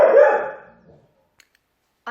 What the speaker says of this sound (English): Miss Ellie, please don't bark right now.